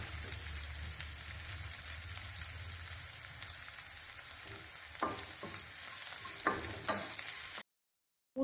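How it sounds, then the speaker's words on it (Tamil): Crushed garlic sizzles softly in a hot pan for a sardine curry, a faint, steady frying crackle with a few sharper stirring clicks toward the end before it cuts to silence. "இப்போ பூண்டு நல்லா தட்டி போட்டுக்கோங்க. போட்டுட்டு நல்லா வதக்கி விட்டுக்கோங்க."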